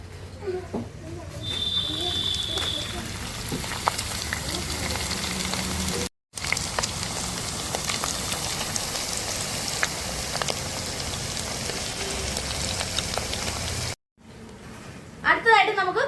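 Ginger dropped into hot oil for a curry crackles in a steady broad sizzling hiss that carries on with two short breaks, close and moderately loud, with faint kitchen clatter at the start and end.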